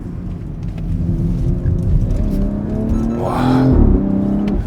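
A BMW X3 M SUV accelerates hard out of a turn, its engine note droning and rising in pitch with a strong exhaust growl heard from inside the cabin, with a brief exclaiming voice.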